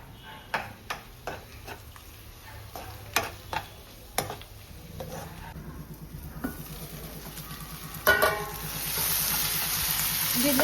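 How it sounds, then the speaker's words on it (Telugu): Ginger garlic paste fries with onions in a pan, a low sizzle broken by sharp clicks and scrapes of a spoon stirring, with a louder burst of hiss near the end. "జింజర్ గార్లిక్ పేస్ట్ కొంచెం పచ్చి వాసన పోయేంత వరకు ఫ్రై చేసుకొని"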